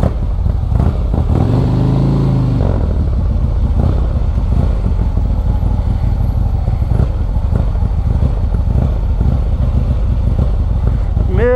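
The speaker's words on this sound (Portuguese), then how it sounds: "peguei a moto do Flavinho pra dar um rolê." A Harley-Davidson motorcycle engine rumbles loudly up close while riding, with wind buffeting and a brief rev, no one speaking.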